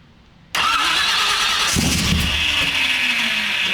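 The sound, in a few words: car engine being started without the fuel pump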